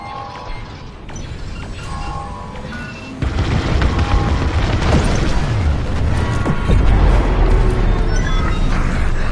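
Pillars blow apart in Star Wars Squadrons with heavy rumbling blasts and crashing debris, a loud, dense roar that builds after a sudden boom and keeps rolling with deep impacts.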